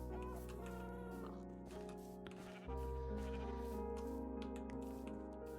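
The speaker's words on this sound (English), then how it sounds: "spawn a chicken." A chicken clucks in a Minecraft-style video game called Lunchcraft, a few short game-sound clucks rising over a steady, loud background music track.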